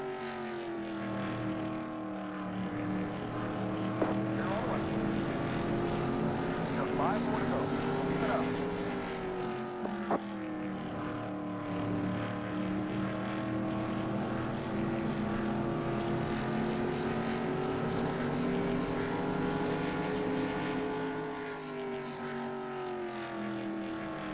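Simulated stock car engines from the NASCAR Racing 2 video game drone steadily and loudly throughout, a sustained buzzing roar with gentle pitch rises and falls as cars race at the 2000 Chevy Monte Carlo 400.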